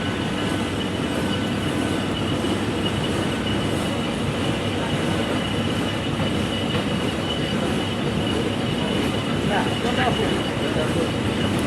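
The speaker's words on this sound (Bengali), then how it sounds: "সময়ের সাথে সাথে ট্রেনের চলার গতি বাড়ল এবং ছুটে চলল আপন গতিতে" Rocket Express mail train running from Khulna to Jessore, with a steady loud rumble of wheels and carriages throughout and faint clicking and squeals, heard from close by, as if from on board.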